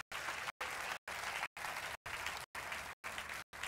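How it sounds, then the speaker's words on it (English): Audience applause for the judges at the FameLab 2014 International Final, a full hall of steady clapping broken by regular brief dropouts roughly every half second, faint overall. "So one more time, can we have some applause to Jim, Alice, and George?"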